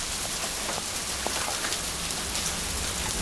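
Hail falls steadily during a hailstorm, a dense continuous patter of ice striking surfaces with a few sharper individual hits, loud and close throughout.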